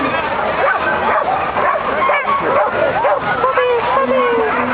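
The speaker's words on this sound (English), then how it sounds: "Puppies, puppies." Puppies bark and yip repeatedly in a busy outdoor crowd, the dog sounds close, mixed with whimpers and overlapping with people chattering nearby.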